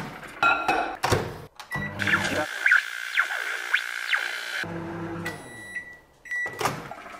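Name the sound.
microwave oven melting chocolate and butter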